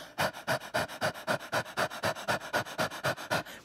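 A person imitates a dog panting in the heat as a breathing exercise, with a slack jaw and tongue out, giving a quick, steady series of about fifteen loud, close, breathy in-and-out huffs with no talk.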